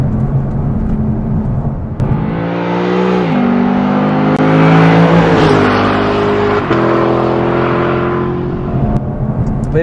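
A 2024 Lexus LC 500 Convertible drives along rolling curves on bumpy pavement, its engine note loud and close, rising and falling through gear changes with a steady underlying road roar.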